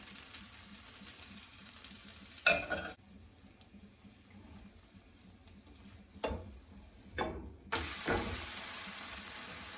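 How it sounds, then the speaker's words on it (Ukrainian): Oil hisses and sizzles steadily in a hot pan, with a few louder bursts as spinach pancake batter hits the surface and scraping clinks of a utensil. "Тепер горячу розігріту сковорідку змазуємо олією будемо наливати наші зелені млинці."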